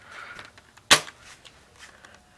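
One crisp, fairly quiet shot from a UTG L96 spring-powered airsoft sniper rifle snaps sharply amid faint background sounds, with no talking.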